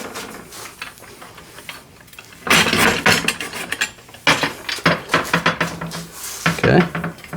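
Small metal bolts clatter and rattle as they drop into a Granberg EZ Rail milling rail, a few close, sharp bursts of metallic clinking and scraping with a voice faintly in the background.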